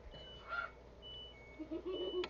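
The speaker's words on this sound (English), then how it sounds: "If y'all ever hear that annoying, obnoxious noise that's in the videos, it's my washer." An LG washing machine beeping in a home: faint electronic tones, a few short beeps and longer steady notes in an otherwise quiet room.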